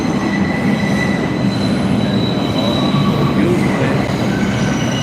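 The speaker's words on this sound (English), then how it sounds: "I'm gonna go get on the train and go up to 42nd Street right here" New York City subway train running with loud, sustained metallic wheel squeals over a constant rumbling roar, close and enveloping throughout.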